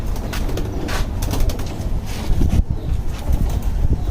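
A silver racing pigeon coos softly up close in a few low, rolling pulses, set against steady wind-like rumble and faint rustling.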